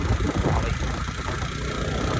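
A motorbike engine idles steadily with a dense, constant rumble on a street in New Nazimabad, Karachi, close by and without pause for the whole moment.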